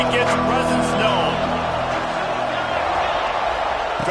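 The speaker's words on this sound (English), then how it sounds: "This crowd ready to make its presence known." A College Football 26 stadium crowd roars as a steady, dense wash of cheering and murmur, loud and continuous throughout, with faint voices layered over it.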